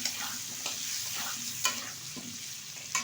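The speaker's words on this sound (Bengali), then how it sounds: "হালকাভাবে ভেজে নেব আলুটা" Potato pieces with slits cut in them lightly frying in oil, a soft steady sizzle with occasional stirring scrapes, close and moderately quiet, no talking.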